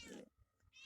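Two meows from a pet cat in a home, one near the start and another at the end, separated by a short quiet gap, heard close and without any talk.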